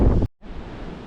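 Loud wind buffets the microphone in a heavy, roaring rush at a viewpoint in Monteverde, Costa Rica, briefly cutting out before the blustery noise returns steadily.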